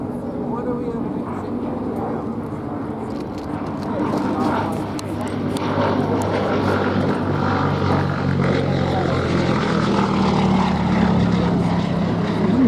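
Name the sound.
Gloster Gladiator biplane flying at Duxford air show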